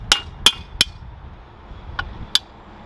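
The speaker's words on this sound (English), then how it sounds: "try to knock it with a hammer and see if I can knock it out" A hammer knocks a welded sprocket off a dirt bike in five sharp metallic strikes. Three come quickly in a row, then a pause, then two more, each ringing loud and close.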